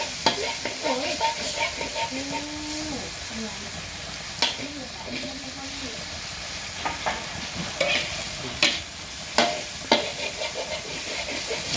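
Chunks of pork and eggs stir-frying in oil in a pan for pad see ew, a steady loud sizzle with sharp scraping spatula strokes and clanks, while a voice talks faintly underneath.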